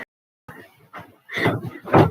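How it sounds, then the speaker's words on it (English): An indoor door is pushed shut, giving a couple of light knocks and shuffles and then a fuller thud as it closes, heard close up in a quiet room. "close the door."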